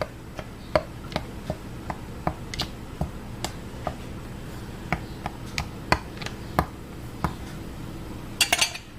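Light clinking and tapping of a utensil against glass jars of freshly canned Creole sauce as bubbles are worked out, a steady series of sharp, close ticks with a brief cluster of rattles at the end.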